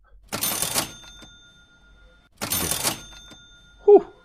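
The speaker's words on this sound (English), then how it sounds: "can hear the cash register" Cash register sound effect, two separate bright mechanical ka-ching bursts about two seconds apart, followed by a short tonal blip, with no talking.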